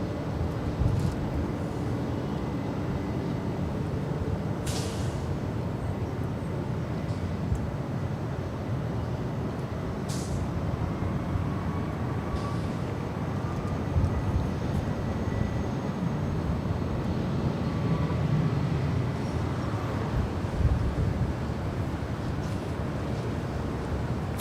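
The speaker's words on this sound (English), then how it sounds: "we do have the Emirates A380 now lighting up. We'll have a north side departure." An Emirates Airbus A380 spools up for a north side departure at LAX, a steady broadband jet roar that stays loud and continuous throughout with faint intermittent clicks over it.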